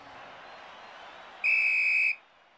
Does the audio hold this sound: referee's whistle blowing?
yes